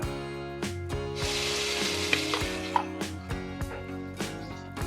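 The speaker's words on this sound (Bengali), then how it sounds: "এবার এটাকে আমি একটু ভালো করে কষিয়ে নিচ্ছি।" A paste of ginger, green chili and ground melon seeds fries in hot oil for an aloo dum, giving a steady sizzle with occasional stirring scrapes and soft background music.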